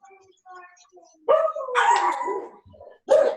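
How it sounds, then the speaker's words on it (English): Several dogs bark and yip at each other indoors in a kitchen, a few sharp close barks in quick bursts, with quieter whines and faint sounds before them. "Now they're all gonna bark at each other."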